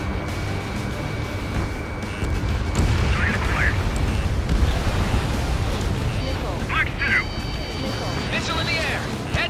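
Loud, continuous rumbling blasts and booms in the Ace Combat 7 video game as harbor facilities are destroyed, with radio chatter voices over the top.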